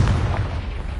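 Confringo blast spell in Hogwarts Legacy, a single heavy booming explosion with a deep rumbling body sustained through about a second, loud and close, with no voices.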